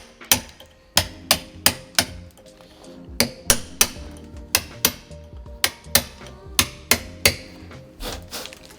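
A stonemason's hammer drives a chisel into granite in brisk, sharp metallic strikes, roughly eighteen close blows in uneven bursts with short pauses between, no talk.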